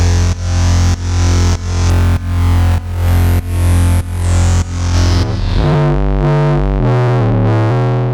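Korg NTS-1 digital mkII synthesizer with its fuzz distortion model engaged, a loud buzzing, saturated synth tone pulsing in repeated even notes, then shifting into gliding, squelchy resonant phrases, with no voices.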